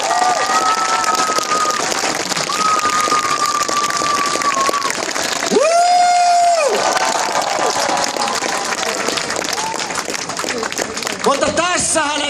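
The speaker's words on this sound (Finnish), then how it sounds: "Annetaan aplodit Pasille ja Eskolle." A Duudsonit show crowd in Lieksa claps and cheers for Pasi and Esko. Thick applause runs throughout, mixed with shouts, whistle-like tones and a voice cutting in near the end.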